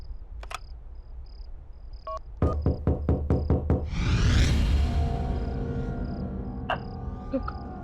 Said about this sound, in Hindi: कोई शायद नॉक कर रहा है अंदर आपके घर में